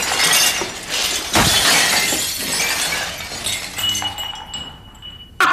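Glass shatters in a home kitchen during baking. A loud break is followed by clinking, tinkling shards settling over several seconds, close and with no talk.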